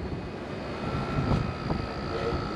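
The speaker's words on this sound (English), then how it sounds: "He's gonna try and fly that drone out of this balcony door." A small drone flies indoors toward a balcony door, its propellers giving a continuous whirring buzz that holds steady at close range, with a faint swell partway through and a brief bump of background noise.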